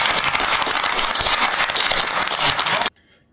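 Crowd at a political event cheers and applauds in a steady, dense wash of clapping and shouts lasting nearly three seconds, then cuts off abruptly to near silence.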